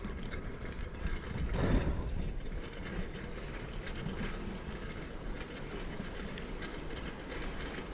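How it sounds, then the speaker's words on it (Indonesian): A Shinkansen high-speed train running past a Japanese countryside village: a broad, steady rushing roar that swells briefly to a louder peak, then holds as a constant wash of rail noise. "di depan ini ada jalan Shinkansen itu, kereta api cepat itu."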